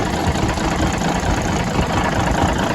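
The engine of a 1981 Peterbilt 359 truck runs at a loud, steady idle just after its first start in about a year, a rough continuous rumble heard up close.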